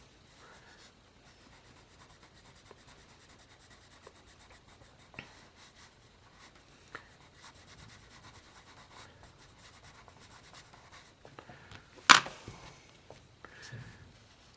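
Lyra Rembrandt colored pencil scratching and rubbing on paper during coloring, faint close strokes with a few sharper scrapes and a louder tap near the end.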